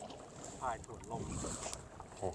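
Small waves lapping and splashing against a kayak on the water, close and moderate, with wind buffeting the microphone throughout.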